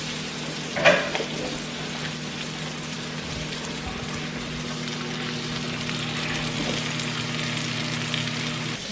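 A microwave oven cooks keto batter in a ramekin with a low, continuous hum and a faint whir, with a brief clatter near the start and nothing else over the drone.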